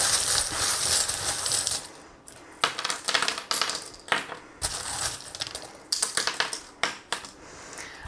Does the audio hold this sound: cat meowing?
no